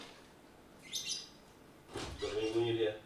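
A pet bird chirps after being fed, a short bright burst of high tweets followed by a longer, louder twittering run. A low voice-like murmur sits under the second part.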